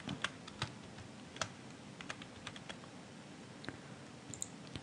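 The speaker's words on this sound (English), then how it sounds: "So I'm typing in edited text" Quiet, irregular keystrokes on a computer keyboard, with sharp clicks in uneven bursts while editing text, heard alone without talk.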